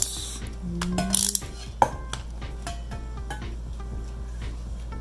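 A baitcasting reel handle being turned by hand, giving soft ratcheting clicks and small mechanical ticks at close range over a low steady hum, with one sharper click partway through.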